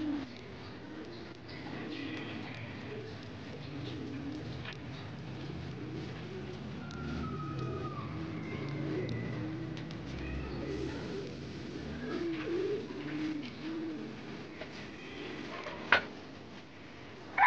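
Racing pigeons coo softly at a loft during a race, their low calls scattered through a steady outdoor background with a faint distant car, no talking.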